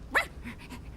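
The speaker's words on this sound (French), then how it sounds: "C'est le chien!" A single short cartoon dog bark rises sharply once near the start, followed by faint softer vocal traces, alone with no talk.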